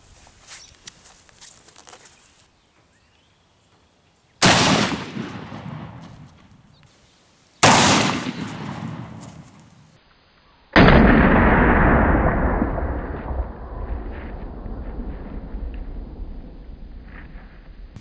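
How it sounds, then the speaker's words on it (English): Several loud, sharp rifle blasts with long decaying echoes from a 45-70 +P 305 grain Xtreme Penetrator load fired into ballistics gel outdoors, separated by quieter gaps. "now we're going to shoot the 4570 plus P 305 grain Xtreme Penetrator"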